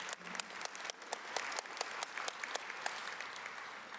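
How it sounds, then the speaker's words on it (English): Steady applause from the audience at an Alabama high school sports hall of fame induction ceremony, a dense wash of many hands clapping continuously without a break. "Let's give them a round of applause right now"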